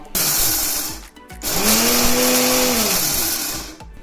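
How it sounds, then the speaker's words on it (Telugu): A mixer grinder whirs loudly in two runs, coarsely grinding lentils and black pepper for spice powder, the motor rising to a steady high-pitched grind before winding down, with a brief pause between. "వీటిని మిక్సీ గిన్నెలో వేసుకొని కొంచెం బరకగా మిక్సీ పట్టుకుందాం"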